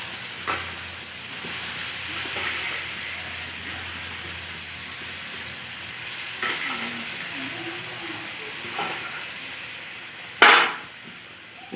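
Pre-boiled mutton and potatoes frying in a pan for a red mutton curry, with a continuous close sizzle, occasional spoon scrapes and one loud clatter near the end, with no one talking.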